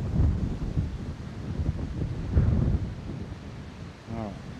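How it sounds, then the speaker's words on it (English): Gusty wind buffets the microphone on a golf course, a continuous low rumble that swells and eases in gusts across the whole stretch, with a brief voice near the end. "this is gusty, right, for here"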